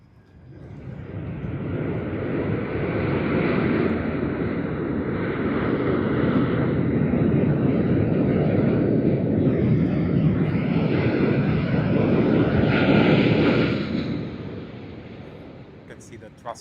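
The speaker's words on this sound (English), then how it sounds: "Hong Kong Airlines HX17 coming in from Hong Kong on its Airbus A330-300. And there we see the touchdown" An Airbus A330-300 of Hong Kong Airlines touches down at Sydney Airport with thrust reversers opening, a loud, sustained engine roar swelling and holding for over ten seconds before fading, with a voice talking over it.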